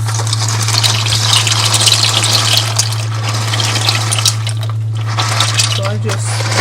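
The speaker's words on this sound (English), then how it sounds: "And now let's add this pasta." Dry pasta tumbles into a pot of salted boiling water with a rushing, splashing gush, close and fairly loud over a steady low hum, while a voice talks alongside.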